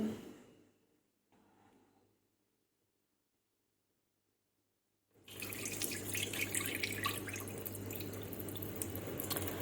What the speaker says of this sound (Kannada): ಇನ್ನೂ ಒಂದಿಷ್ಟು ನೀರು ಹಾಕಿ ತೊಳಿಬೇಕು ಇದಕ್ಕೆ